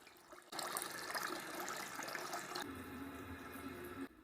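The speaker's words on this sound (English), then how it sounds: "Slosh it around in the water to remove the excess starch." Water splashes and sloshes steadily in a basin as grains are swirled and rinsed, a continuous wet churning close by with no talking.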